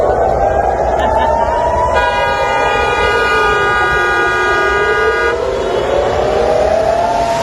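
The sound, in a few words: air raid warning sirens sounding in Tel Aviv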